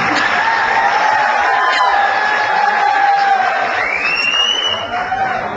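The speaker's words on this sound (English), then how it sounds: "please, IC students, give them the clap" Students at a prize-giving ceremony cheer and whoop for award winners, a loud, continuous crowd roar with high shouts riding over it.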